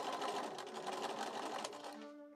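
A sewing machine top stitches a curved dress yoke for a Victorian ball gown, running in a fast, steady, close-up buzz for about two seconds before stopping abruptly.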